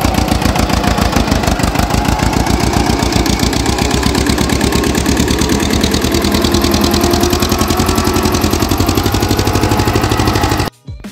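A tractor engine idles in a farm field, a loud, steady close-up chugging with a fast even rhythm for about ten seconds before it cuts off abruptly near the end.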